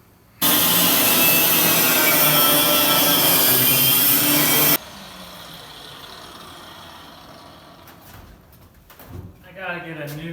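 An angle grinder's cutting disc slices loudly through the metal tube framing of a horse trailer, a harsh steady whine for about four seconds that stops abruptly, leaving quieter handling noises and faint background sounds.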